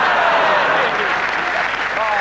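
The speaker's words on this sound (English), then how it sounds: "Round of applause" Television comedy studio audience applauding a newly introduced character named Miguel, a dense continuous wash of clapping with cheering tones, loud and close throughout.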